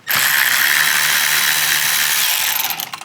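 A power ratchet spins T20 Torx screws out of a 2015 to 2018 Volkswagen Jetta VI active grille shutter motor assembly, giving a loud, close, continuous whir that lasts about two and a half seconds before tapering off.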